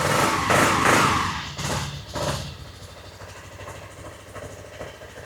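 A Yamaha Riva 180 scooter engine idles close by just after a cold start. It runs louder and uneven for the first couple of seconds, then settles into a steady, quieter low idle.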